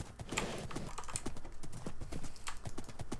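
Horse hooves clip-clop in the Minecraft video game, with quick, uneven steps close up across a few seconds.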